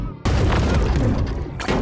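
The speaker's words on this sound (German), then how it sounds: "Oh, der schießt rote Schüsse." Red shots fired by a gun turret in the video game DESTRUCTURE Among Debris: a loud, dense booming blast that bursts in after a brief quiet and rumbles on, with a second heavy hit near the end.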